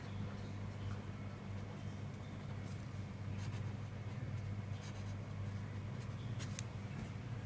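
Pen scratching on paper while an accounting entry is written out, a continuous, close, soft scrawl with a few sharper strokes over a steady low hum, without talking.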